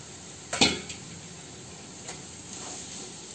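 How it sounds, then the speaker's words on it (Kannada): Boiled seeds hit hot oil with a sharp sizzle and spatter, followed by a faint hissing and occasional light clinks of a utensil stirring in the pan. "ಕಾಳನ್ನ ಹಾಕಿ ಎಣ್ಣೆಲೆ ಸ್ವಲ್ಪ ತಾಳಿಸ್ಕೊಳ್ಳೋಣ"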